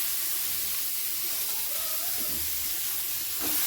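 Malabar spinach dropped into a pan of frying lentils with papaya and radish, giving a steady, even sizzle and hiss that stays constant throughout, close by with no talking.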